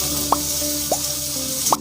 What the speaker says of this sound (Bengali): এবার নারকেল কোচানোর উপরে দিয়ে দিচ্ছি পেঁয়াজ কোচানো